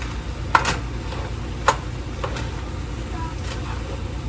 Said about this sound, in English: Let's give it a kind of a quick stir to get everything mixed.